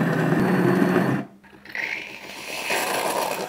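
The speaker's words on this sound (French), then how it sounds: "Tu vois que c'est en train d'aspirer le lait et de le reproduire comme ça, comme si c'était de la mousse." A connected bean-to-cup coffee machine draws up and froths milk, a steady loud pumping hum that cuts out briefly before a hissing, gurgling froth sound resumes close by.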